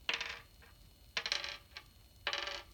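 An eight-sided plastic die clatters across a tabletop in three short bursts of tumbling rattles separated by pauses, close and distinct with no voices.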